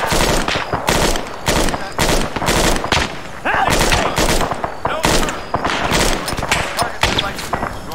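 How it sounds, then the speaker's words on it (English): Rapid bursts of gunfire from a village in the Arma 3 military game, loud repeated cracks and volleys close together throughout, with voices talking between the shots. "it sounds or looks like we are now receiving fire from the village"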